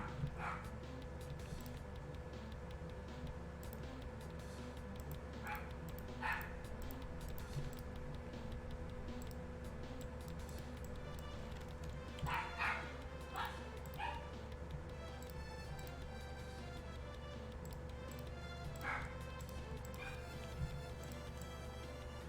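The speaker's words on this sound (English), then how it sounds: "Dogs are barking." Dogs bark and yip intermittently in the distance, short scattered bursts over a steady droning hum.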